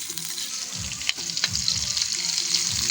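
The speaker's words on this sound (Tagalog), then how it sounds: "Pinigisa na oh" Sikad-sikad shellfish sizzle as they are sautéed in a pan, a loud steady frying hiss broken by stirring scrapes and clatter of shells against the metal.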